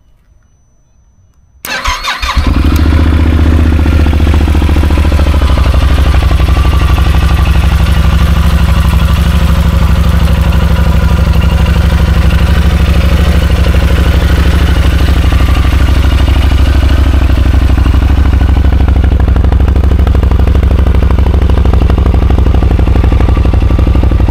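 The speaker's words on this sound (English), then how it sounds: "it has this really crispy sounding Yoshimura RS4 exhaust pipe" A Yamaha Super Tenere 1200 motorcycle engine fires up after a brief silence, then settles into a loud, steady, throaty idle through a Yoshimura RS4 exhaust that runs continuously, close to the listener.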